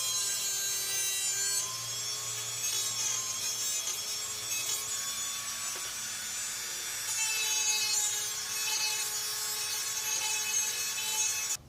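Steady abrasive scraping and rubbing as rust is stripped to bare metal on a Poulan lawn mower, continuous and fairly close for about twelve seconds with no speech.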